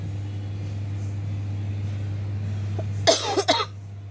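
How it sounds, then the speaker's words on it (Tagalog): A person with a cough coughs two or three times in quick succession near the end, close to the mic, after several seconds of steady low electrical hum in a costume shop. "inuubo ako guys"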